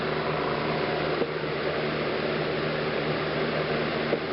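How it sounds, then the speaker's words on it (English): An airbrush in a spray booth blows plain air with no paint, making a steady, even hiss that runs unbroken throughout at moderate loudness, with no talking. "There's no paint or anything in my airbrush either. It's just normal air coming out."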